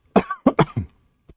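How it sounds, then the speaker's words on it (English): A series of close, harsh coughs, four bursts in quick succession, followed by a faint short cough after a pause. "Excuse me, I'm going to cough."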